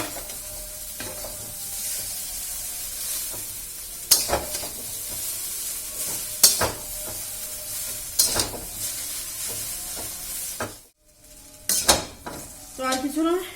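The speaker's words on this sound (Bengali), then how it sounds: "ফ্রাই করতেই যাই, ফ্রাই হয়ে গেলে দিয়ে দেবো এটা" Food sizzles in a pan under steady hissing, broken by several sharp clinks of a utensil against the pan and a short pause before the stirring resumes.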